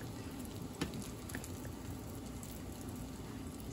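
Pork schnitzel frying in a pan, a steady close sizzle and crackle of hot oil with one small pop, no talking.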